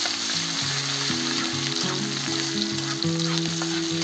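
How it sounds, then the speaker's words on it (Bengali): Onion paste fries in a pan until reddish, a steady close sizzle under a bed of music throughout. "পেস্টটা লাল লাল করে ভেজে নেবো।"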